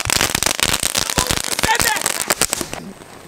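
Fireworks crack and burst in rapid, dense volleys, loud and close, a near-continuous crackling barrage that thins out toward the end, with voices mixed in underneath.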